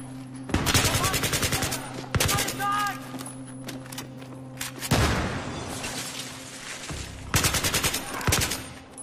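Automatic weapon fire from the video game Battlefield 3, in the Uprising mission: several rapid, loud bursts separated by pauses, with a steady low engine-like hum running underneath throughout.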